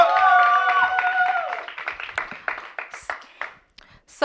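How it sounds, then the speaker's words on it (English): Audience applause and cheering for a poetry performer at a live spoken-word event: clapping swells up under a host's amplified voice, then thins into scattered claps and fades, with a few whoops near the end. "let's give J Love a round of applause"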